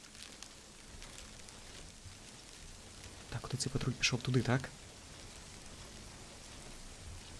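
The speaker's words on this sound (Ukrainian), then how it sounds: "Дощ знову почався." Rain in the Arma 3 military shooter, a soft steady patter running the whole time under a voice speaking briefly in the middle.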